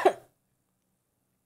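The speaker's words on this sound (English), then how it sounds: "I'm so sorry for coughing into the mic." A single short, sharp cough lands right on the microphone, loud and close, then cuts to near silence.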